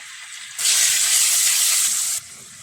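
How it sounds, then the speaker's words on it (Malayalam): Ginger garlic paste dropped into hot oil for a paneer masala bursts into a loud, bright sizzle that holds for about a second and a half before dropping back to a low hiss. "ചൂടായ ഓയിലിലേക്ക് നമ്മൾ എടുത്ത് വെച്ചിരുന്ന ഇഞ്ചി വെളുത്തുള്ളി പേസ്റ്റ് ഇട്ട് കൊടുക്കുക."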